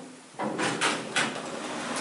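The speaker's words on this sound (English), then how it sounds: "And now I'm going to open the door." An elevator door opens in fire service mode, a sliding rumble with a few distinct bumps and clunks over a steady room hum, close and moderately loud.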